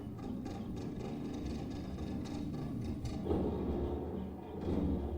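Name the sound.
old house pipes noise, film sound effect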